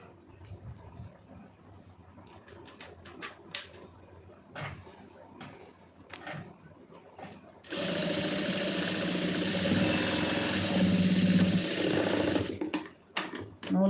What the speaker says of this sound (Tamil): நான் 2 தையல் வந்து எல்லா 2 பக்கமும் போட்டுட்டு ப்ளவுஸை முடிக்கிறேன்